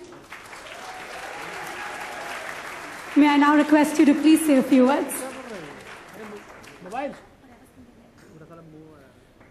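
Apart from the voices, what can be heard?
audience applause at ceremony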